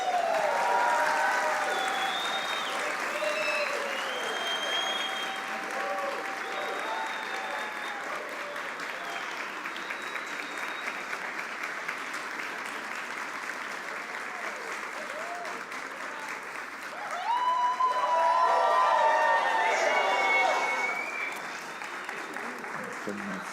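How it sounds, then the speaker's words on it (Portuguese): A church congregation at a Sunday morning missions service applauds a missionary couple in a long, sustained round of clapping that swells near the end, with a few voices mixed in. "Eu quero que você dê uma salva de palmas para o casal missionário da nossa igreja"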